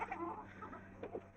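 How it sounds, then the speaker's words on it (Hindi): Hens cluck softly and briefly nearby as they are let out of their coop, a faint, low cackle with a couple of short rising notes. "और इसके साथ खोल देते हैं अपनी ब्राउन मुर्गी को"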